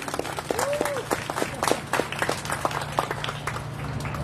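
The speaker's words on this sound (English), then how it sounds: "yes, yes, we can clap." Audience applauding at the grand opening and ribbon-cutting ceremony of a regional chamber of commerce in Imperial Valley, a steady spread of many hands clapping throughout, with a brief voice rising over it near the start.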